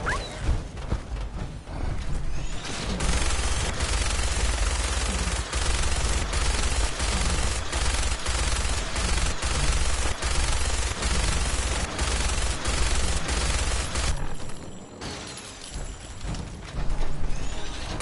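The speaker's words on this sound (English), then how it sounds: "I don't know why he stopped shooting." Sustained automatic gunfire in the game Fallout 4, dense rapid bursts of shots running almost continuously, loud and close, with a short lull near the end before firing resumes.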